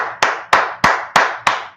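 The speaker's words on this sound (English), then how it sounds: "we're going to clap it up for the class" Five sharp, evenly spaced group claps for a Friday Hebrew class, loud and close, ringing briefly after each strike with no talking.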